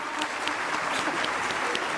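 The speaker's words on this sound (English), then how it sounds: "May we have a huge round of applause for them." Audience applause at a school annual day for a young kindergarten choir, steady massed clapping from a large crowd in a hall with a few sharper individual claps standing out, continuing for the full two seconds.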